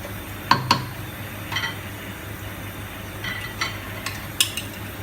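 A spoon stirs oil and already-fried onions in a cooking pot, giving a faint sizzle under a few sharp metallic clinks and scrapes scattered across several seconds, with no talking.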